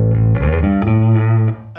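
Electric bass played through a Darkglass Alpha Omega distortion pedal with the drive at zero, sustained harmonic-rich notes that drop noticeably quieter near the end as the blend control is turned up, alone without talk.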